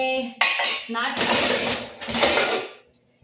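Old metal cooking pots kept for boiling eggs clatter and clang together in bursts of rattling metal, loud and close, across a few seconds in a home kitchen.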